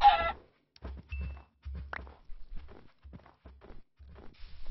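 A chicken in the Minecraft Better Than Wolves mod gives a short, close cluck at the start, followed by soft, rhythmic game thuds and steps.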